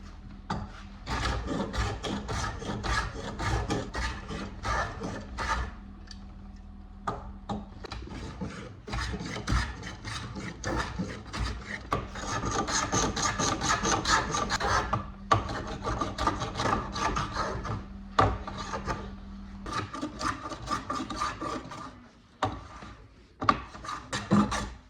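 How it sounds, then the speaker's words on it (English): A wooden piece of a 19th-century French farmhouse table being planed by hand: repeated close rasping strokes in uneven bursts with brief pauses, over a faint steady hum. "After drying, I remove the clamps and plane the piece to the right size."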